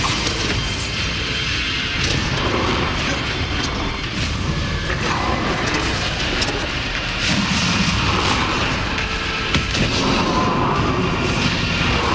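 Bombarda blast spells firing in Hogwarts Legacy combat, a dense, loud stream of booming explosions and crashes filling the whole stretch without pause.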